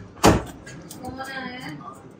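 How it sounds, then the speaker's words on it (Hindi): A house door is opened with a sharp click and thud early on, followed by a person talking nearby in a home where dogs are present. "और मैं दरवाजा खोल देता हूँ"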